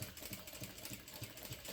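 Sewing machine at a long stitch length top stitching through a crossbody bag's exterior panel and seam allowances, a quiet steady mechanical chatter with regular rapid pulses, close by and alone.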